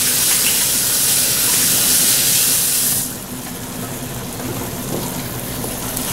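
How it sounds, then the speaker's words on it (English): Sesame chicken sauce simmers in a hot pan with a loud, steady sizzling hiss that eases to a softer bubbling partway through. "I'm gonna let that simmer just for a second."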